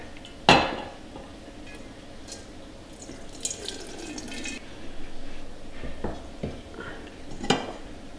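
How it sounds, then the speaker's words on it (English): Chicken cooking broth strained through a colander into a jug: metallic clanks of pots and utensils, a sharp knock near the start, and trickling, dripping liquid pouring in bursts nearby. "I'm going to strain all my cooking broth through this colander and into this jug."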